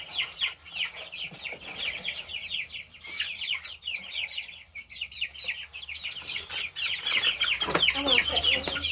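A mixed flock of chickens clucking nonstop in a yard: dense, overlapping bursts of clucks and short cackles from several birds nearby, rising a little louder toward the end.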